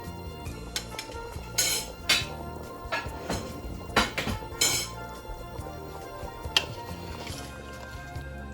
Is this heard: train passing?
no